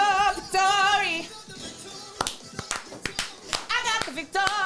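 Rhythmic hand clapping at a concert, sharp claps punctuating loud, sung or shouted voices that carry on over and between them.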